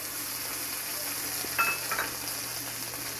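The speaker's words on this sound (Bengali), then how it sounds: "আলুটা ভেজে নিচ্ছি, এই যে আদা আর কাঁচা লঙ্কা পেস্ট করে রেখেছি, এটা দিয়ে দিলাম" Potatoes frying in a pan with ginger and green chili paste for a vegetarian curry, an even close-up sizzle with a brief clatter of utensils midway.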